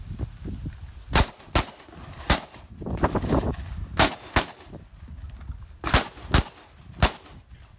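Eight sharp, loud shotgun blasts ring out in an irregular sequence during a dynamic shooting exercise at a Russian championship, with brief rustling and movement between shots.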